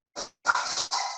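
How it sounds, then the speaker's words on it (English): A small puppy lets out excited yips and short barks, a brief one followed by a longer run of whiny, high-pitched bursts, close by and fairly quiet. "Sorry, my little puppy is getting excited."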